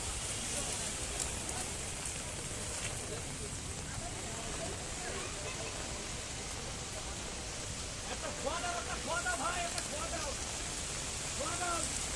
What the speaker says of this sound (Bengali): প্রচণ্ড বৃষ্টি হচ্ছে, বৃষ্টির মাঝে বেচা কেনা হচ্ছে না ওরকমভাবে